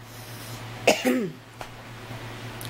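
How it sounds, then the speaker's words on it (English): A single short, raspy cough, followed by a smaller throat sound, close and clear over a quiet background hum. "I'm not trying to cough on y'all, but you can know, just a little cough"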